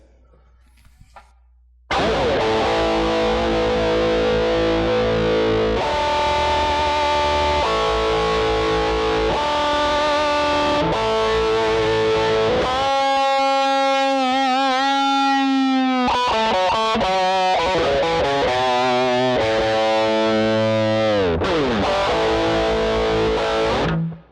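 After a brief quiet start, a loud distorted electric guitar through a Line 6 Helix amp modeler with an EQ curve plays thick sustained chords and a bending lead line that keeps going to the end.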